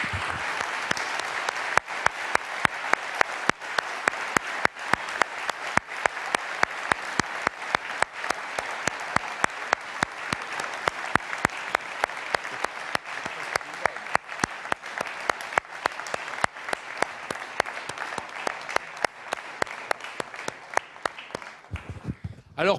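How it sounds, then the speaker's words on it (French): A conference audience gives sustained, dense applause lasting about twenty seconds, many hands clapping steadily at moderate loudness before it tapers and stops near the end. "il mérite vraiment des applaudissements redoublés"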